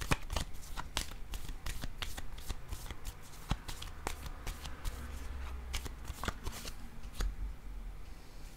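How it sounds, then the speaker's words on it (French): Tarot cards are shuffled and laid down in rapid, crisp riffles and sharp flicks, close and continuous, with a soft background hum. "Là, ici, je vais déposer une carte."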